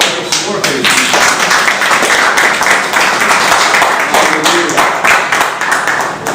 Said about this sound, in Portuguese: Vamos aplaudir o Senhor, querido